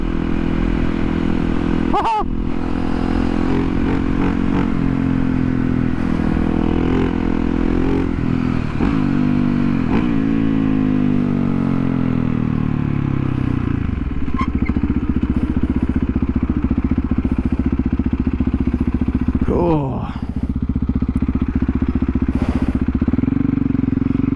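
A supermoto motorcycle engine roars loud and close while riding, its pitch sweeping up and down through repeated gear changes and revs over a steady rumble, alone for the whole stretch with no talk.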